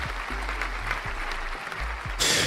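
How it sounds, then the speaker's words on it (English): Short burst of clapping from a small group, heard under a low voice and ending in a louder hissy swell. "Here, give you a little applause."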